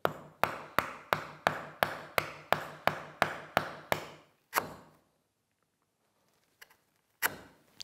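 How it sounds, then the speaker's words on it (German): Hammer strikes on a chisel at a sturdy mobile mini workbench: about eleven sharp, evenly spaced blows in quick succession, then a short pause, one more hit, silence, and a couple of final knocks. "Also mit Hammer und Meißel."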